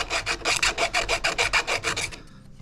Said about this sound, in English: what I'm going to use is just a file, and I'm going to clean up those edges where the drill came out